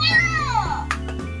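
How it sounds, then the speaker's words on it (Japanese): A Yo-kai Watch alarm clock set to go off in the afternoon plays its cat-voiced alarm, a loud, close electronic meow-like call in a cartoonish character voice, followed by a few short chirpy syllables. "アラームを午後3時にセットしてみました"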